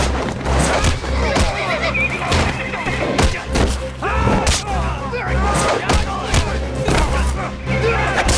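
Japanese cavalry horses charge amid a loud, dense battle din, with whinnies, heavy thuds and percussive blasts layered over a constant low rumble, while voices shout beneath the chaos.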